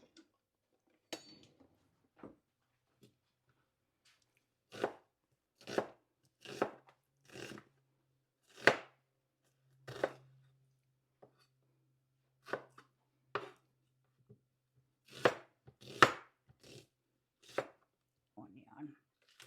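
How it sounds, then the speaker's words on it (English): Knife chopping seasoning on a board for fried dumplings, in scattered bursts of quick, close taps with short pauses, a faint low hum partway through. "Going to be cutting up some seasoning over here."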